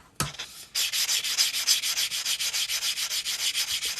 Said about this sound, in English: Now we're gonna sand this cut edge smooth real quick.